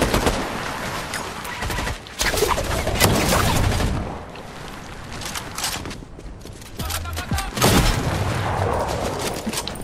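Dense bursts of gunfire in Fortnite, shotgun blasts mixed with rapid automatic fire and booms, loud and close, running almost continuously with a short lull midway.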